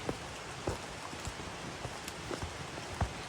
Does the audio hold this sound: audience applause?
no